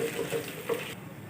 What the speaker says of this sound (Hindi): सारे मसालों को अच्छी तरह से फ्राई कर लेंगे।